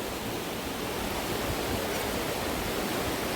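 Steady rushing water fills the whole stretch, a constant broadband roar of the Chorna Tysa river in Zakarpattia, Ukraine, with no pauses or voices.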